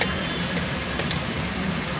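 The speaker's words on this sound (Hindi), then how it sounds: "अब इसमें हम पालक डालेंगे" Spinach tipped into a pan of hot spinach gravy at an Amritsar street-food stall, giving a steady, close frying sizzle with a soft bubbling wash that holds even throughout, with no talk.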